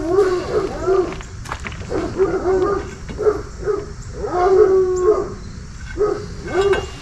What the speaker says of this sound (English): we'll see what the dogs are doing.